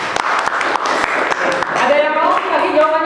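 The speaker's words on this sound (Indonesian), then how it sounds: "tepuk tangan untuk temannya" Scattered hand claps from a classroom group applauding a student in a university teaching session, brief and uneven, giving way to a voice speaking near the end.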